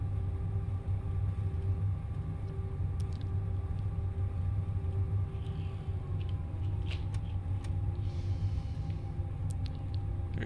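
A ToLiss A319 airliner landing in X-Plane 11, with thrust reversers deployed and autobrake slowing it on the runway: a steady, loud, low engine roar and rumble that holds throughout, with no talk.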